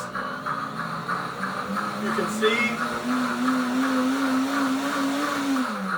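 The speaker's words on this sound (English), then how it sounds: "You can see the steam coming out of the blender. It's bubbling, boiling inside." A blender runs steadily with a rising motor hum, blending boiling hot sauce that bubbles and steams inside; a low churning drone throughout, with faint background voices.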